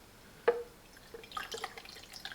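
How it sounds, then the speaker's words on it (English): Water poured into a Silvercrest digital glass electric kettle, heard as one sharp splash-like plink followed by quiet trickling drips and small liquid sounds, close and soft. "Now let's fill up with water a little bit"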